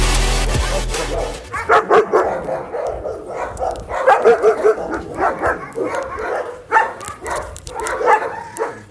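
Two German Shepherd dogs bark repeatedly at close range in irregular bursts, loud yaps and barks overlapping, with a few whining notes between them.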